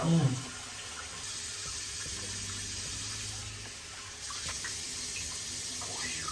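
Water runs steadily from a bathroom tap into a sink as hands are wetted, a faint continuous stream with a soft splash at the start, with no talking.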